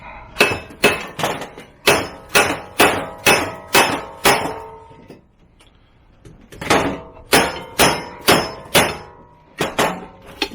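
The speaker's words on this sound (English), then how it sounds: "Give me a freaking hammer." Repeated metal clangs from a hammer beating on a seized part of a pickup truck door, struck in rapid bursts of five or six blows with a short pause in the middle, loud and close.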